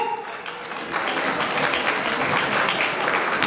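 An audience claps loudly and steadily for dancers Seema and Sharath at a KBS Yugadi 2026 stage event; the applause swells after a moment and continues thick and sustained.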